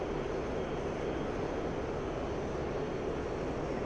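Steady, broadband roar of a Mirage F1CE jet engine in a flight simulator during a climb, a constant close rushing drone with no breaks.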